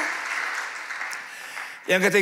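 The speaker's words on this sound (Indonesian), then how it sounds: "Tolong saya dengan tepuk tangan yang lebih baik" Congregation at an online church worship service claps steadily, a moderate wash of hand claps heard from some distance, cut off near the end by a voice speaking.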